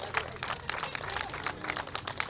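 Applause from an audience at an awards ceremony at the Rakvere EHKK 2024 event: steady, dense clapping throughout, with louder rhythmic bursts roughly every third of a second.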